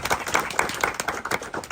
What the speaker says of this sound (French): si on pouvait les applaudir encore